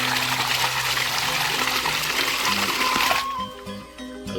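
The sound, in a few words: 4-inch swing-valve hydraulic ram pump bleeding out air, water flowing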